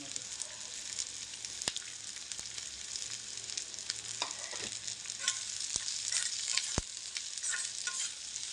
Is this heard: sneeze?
no